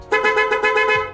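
An aftermarket G-Star loud horn fitted to a Honda Mio i 125 scooter gives one short, loud, close blast with rapid pulsing and a rich, harmonic honk lasting about a second.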